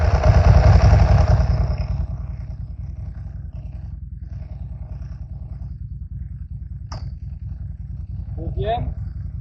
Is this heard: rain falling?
no